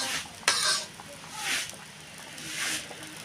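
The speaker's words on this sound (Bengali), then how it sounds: "শাকটা একটু নেড়ে নিয়ে ভালো করে ভেজে নেব।" Leafy greens are stirred and fried in a pan, with three scraping stirring strokes rising over a quiet background sizzle.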